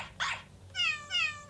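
Dog bark and cat meow sound effects from a Nintendo 3DS sound app: one short, sharp bark comes first, then two drawn-out, tonal meows follow close together, clear and alone.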